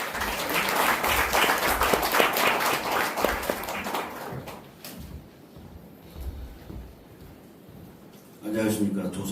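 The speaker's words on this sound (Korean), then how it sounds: "큰 박수 부탁드립니다." An audience at a stage event welcomes a guest with several seconds of close, dense clapping that fades into quieter room noise, with a brief burst of sound near the end.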